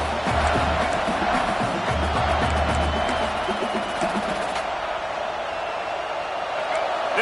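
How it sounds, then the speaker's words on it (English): College football stadium crowd at Nebraska vs Georgia, a loud, sustained roar of cheering and yelling aimed at the offense, steady and dense throughout with a distant announcer voice faintly under it. "This crowd trying to make life miserable for this offense."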